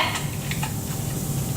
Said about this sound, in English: And the pan it goes. You hear it sizzling? Sizzling good.